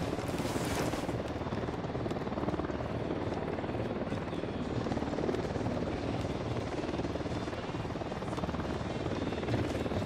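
Helicopter in the Ghost Recon Wildlands video game: a loud, continuous rotor and engine roar fills the whole stretch, dense and close, with faint bursts of gunfire mixed in.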